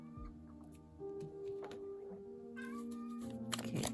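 A house cat meows several times near a door indoors, drawn-out and close, with a louder cry at the end over quiet room noise.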